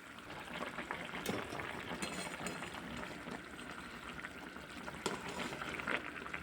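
Small hilsa fish cook over high heat with new potato and brinjal, giving a soft, steady bubbling simmer with faint crackles and an occasional tap.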